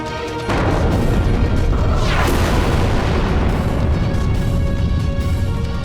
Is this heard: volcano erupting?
yes